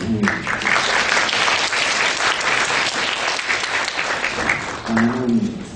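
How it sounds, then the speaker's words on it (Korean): A forum audience applauds to welcome a university professor joining a panel discussion, giving steady, full clapping throughout, with a voice speaking over the start and again near the end. "많은 박수로 환영해 주십시오."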